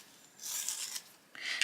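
A colouring pencil is sharpened in two short, close, scratchy rasping bursts separated by a brief pause, quiet and with no talking.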